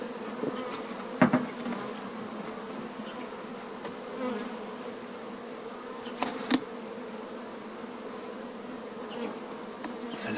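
A honeybee swarm buzzes around its hive in a steady, dense drone, with a couple of brief knocks from hive handling over the continuous hum and no voices.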